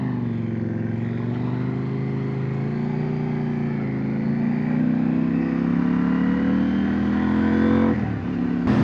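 A CFMOTO 800NK motorcycle engine drones steadily while riding, its low tone slowly rising as the bike gains speed, then a sharp disturbance near the end; no one speaks.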